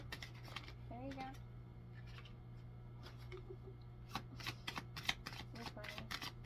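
Oracle cards shuffling in a deck, a run of crisp riffling flutters in quick bursts close by, with a steady low hum and brief speech in the background.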